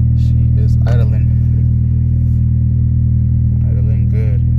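A tuned 2006 Honda Civic Si with a K20Z3 engine and a 3.5-inch hybrid cold air intake idles with a steady, deep, even hum, close and loud, while a voice speaks briefly over it.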